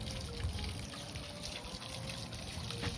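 Water trickling and splashing steadily from a small fountain in the Sabatini Gardens beside the Royal Palace in Madrid, a continuous soft dribble heard close by with no talk.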